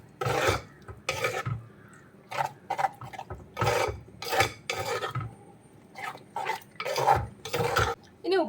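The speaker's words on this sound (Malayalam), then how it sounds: "തൈരും കൂടി ചേർത്ത് നമുക്ക് നന്നായിട്ടൊന്ന് മിക്സ് ചെയ്തെടുക്കാം." Curd is stirred into beetroot pachadi with a spoon, making a rhythmic series of wet scraping strokes against the bowl, about a dozen close, distinct swishes separated by brief pauses.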